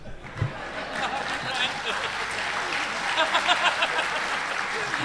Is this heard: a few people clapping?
yes